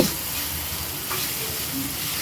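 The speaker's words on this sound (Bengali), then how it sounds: "ভালোভাবে ভাজা ভাজা হয়ে গেছে" A paste of ginger, cumin and turmeric fries in a pan, giving a continuous, moderately loud hissing sizzle with small crackles throughout and no talking.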